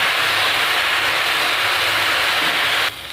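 Jute leaves stirred and fried in a pan give a loud, steady, close sizzling hiss that runs unbroken, then drops in level just before the end.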